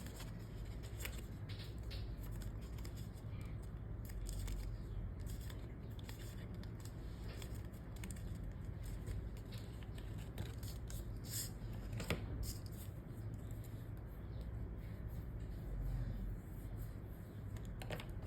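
Scissors snip cardboard for a VHS tape box in a series of quiet, close cuts with light handling rustle between them, against a faint steady background hum.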